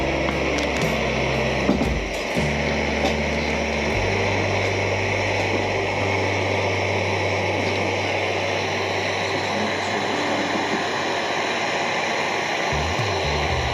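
A Jetboil camping stove burner runs with a steady, loud roaring hiss, its low rumble dropping partway through as the heat is turned down, then holding a softer, even roar to the end.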